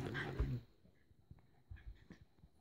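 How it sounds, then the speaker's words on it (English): Two dogs play-fighting indoors, with a brief scuffle followed by quiet snuffles, whimpers and soft thumps as they tussle close by. "They're playing. This is how dogs play."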